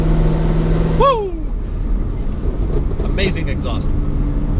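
A Mercedes W204 C63 AMG runs loud on the highway, with a steady low exhaust drone and a brief rising whoop near the start before settling into a continuous cruising rumble; a voice is heard briefly.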